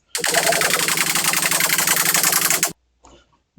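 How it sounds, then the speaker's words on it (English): A dense, buzzing synthesized roar from the Serum 2 synthesizer, jet-engine-like with a rapid pulsing texture, holds steady for a couple of seconds, then cuts off abruptly, leaving a faint tail. "Kind of sounds like a jet engine going off or something."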